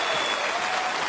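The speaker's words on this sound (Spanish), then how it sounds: "John Jairo Londoño, Foforito, un aplauso fuerte" A studio audience at a television game show breaks into loud, sustained applause, with dense clapping heard close up.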